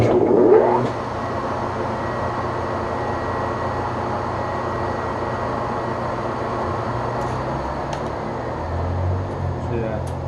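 A Webb Whacheon lathe fed through a phase converter starts up in high gear at about 200 RPM, a quick rising whir settling into a steady even motor hum that continues at moderate level.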